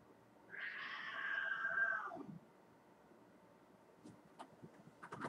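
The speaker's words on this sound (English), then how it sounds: "Crazy having cats. A double fight." Two cats fighting indoors, a loud drawn-out caterwauling yowl for about two seconds that breaks off, followed by faint scattered clicks and knocks.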